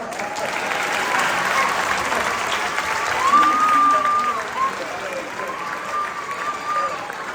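Audience applause at a live magic and science stage show, steady broad clapping from a crowd that runs throughout, with a voice speaking over it partway through.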